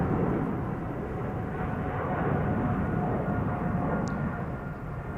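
KLM airliner bound for Cape Town taking off from Amsterdam's Polderbaan runway 36L on a sunny morning, a heavy, continuous jet engine roar that fades slightly near the end.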